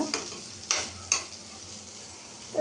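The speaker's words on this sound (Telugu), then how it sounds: "ఇప్పుడు బెండకాయ బాగా ఫ్రై అయినాక" Okra frying in a pan, a soft steady sizzle close by with a few sharp spatula scrapes and taps against the pan.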